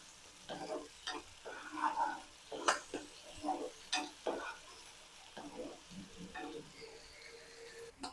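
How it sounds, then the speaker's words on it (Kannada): Tomatoes frying and being stirred in a pan for a paneer capsicum gravy: soft sizzling under repeated scraping stirs and light clinks, irregular and close, with no talk. "ಇವಾಗ ಟೊಮ್ಯಾಟೊ ಫ್ರೈ ಆಗ್ತಾ ಇದೆ."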